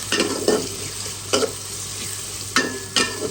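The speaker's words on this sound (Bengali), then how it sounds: "মশলাটা ভালো মতো কষিয়ে নিতে হবে" Whole spices with garam masala, cloves, black pepper and cinnamon fry in a hot pan. A close, steady sizzle is broken by four quick scraping stirs, with no voices.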